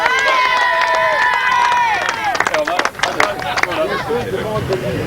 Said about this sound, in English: give him a shout, give him a cheer